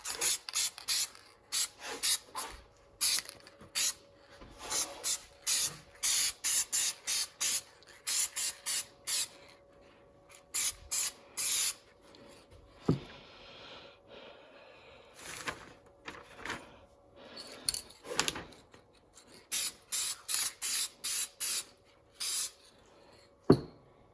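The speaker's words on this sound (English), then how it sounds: "I'm just going to shoot a little bit of silver paint on here" Silver spray paint is applied to an aluminum part from a 1986 Suzuki GSX-R 750 in repeated short hissing bursts, some brief and some longer, separated by quiet gaps.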